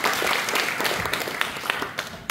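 Audience applause at an academic conference on the 1871 Yeonghae Donghak Revolution, a dense, steady crowd clapping across the whole stretch before fading at the end.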